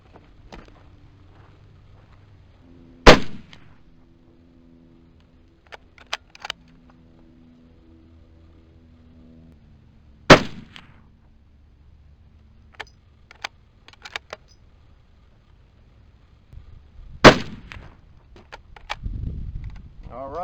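Three sharp, loud reports from a 98-year-old 30-06 rifle firing 150-grain soft-point reduced-recoil loads, spaced several seconds apart, with quiet handling noise and faint talk between shots.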